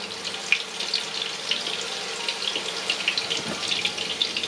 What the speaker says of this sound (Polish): No to wrzucamy nasze kotleciki, bo już się olej rozgrzał.